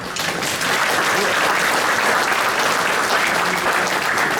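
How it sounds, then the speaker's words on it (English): A West Point class of 1959 reunion gathering applauds in tribute to classmate Fred Malik, a loud, dense, sustained round of clapping from a large crowd that swells after a brief start. "I'd like to give him a round of applause as well"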